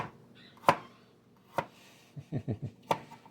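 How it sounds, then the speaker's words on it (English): Garlic chopped by hand with a knife on a cutting board in a home kitchen: a few sharp isolated chops, then a quick cluster of four or five strikes and a final one, close and clear. "I'm just going to kind of do up the garlic by hand, the old-fashioned way"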